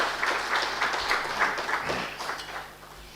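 Audience applause greeting a woman as she steps forward at a UN Women Nigeria media roundtable, steady clapping from a crowd in a hall that fades slightly toward the end.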